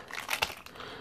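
Close crinkling and tearing of plastic wrapping as a LOL Surprise Confetti Pop toy egg is unwrapped, with a few sharp crackles in a quick burst.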